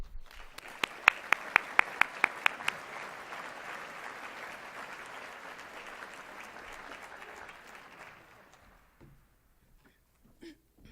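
A banquet audience at the 2014 Penn State College of Agricultural Sciences scholarship dinner applauds a speaker, a broad roomful of clapping with a few sharp nearby claps early on that swells, holds, then fades out.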